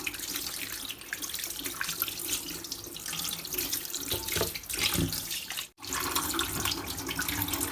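Tap water gushes continuously into a kitchen sink while a large catfish is washed beneath the stream, steady and close, with a brief interruption near the end.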